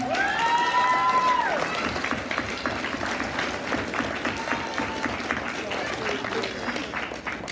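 Steady applause from a crowd fills the clip, with a voice talking over the clapping throughout.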